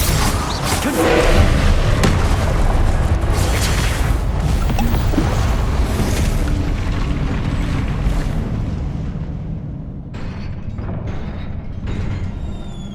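Repeated Confringo spell explosions in the PS5 game Hogwarts Legacy, heavy booming thumps layered over a dense, continuous roar of battle effects that thins out near the end.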